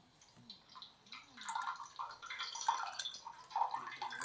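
Water drains from an LG Mini Turbo Drum washing machine, a soft gurgling, dripping rush that swells and splashes more strongly toward the end, fairly quiet and without talk.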